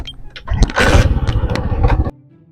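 A motorcycle engine revs hard and loud as the bike pulls away, a dense roaring burst for about two seconds that cuts off sharply, leaving only a low hum.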